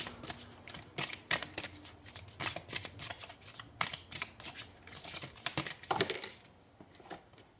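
Tarot cards are shuffled by hand in quick riffling bursts of crisp flutters and slaps, close and fairly soft, with no voices.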